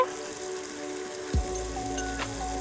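Country chicken curry pieces drop into a pan of frying tomato and onion, giving one sharp splash followed by a steady, close sizzle.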